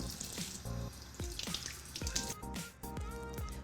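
Tap water runs and splashes at a bathroom sink while a face mask is rinsed off during a skincare routine, a close, steady watery wash with short breaks and some irregular splashing.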